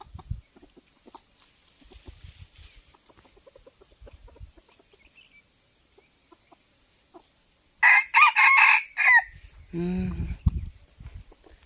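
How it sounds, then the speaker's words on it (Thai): A rooster crows loudly and close by in a single long call, followed by low clucking, after a stretch of quiet with faint scattered sounds. "โอ้ยมันมาขันตอบแล้วอีกแล้ว"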